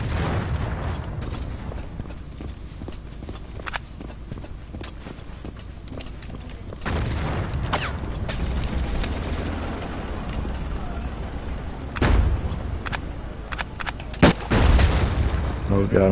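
In Battlefield 1942 gameplay, scattered gunshots and heavier booming bursts crack over a rumbling game soundscape while a person talks, with the loudest hits late on.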